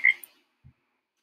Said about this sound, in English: Is that a frog? Oh yeah, I heard they added frogs now.